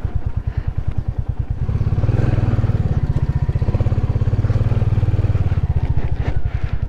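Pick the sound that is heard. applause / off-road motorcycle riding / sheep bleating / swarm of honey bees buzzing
off-road motorcycle riding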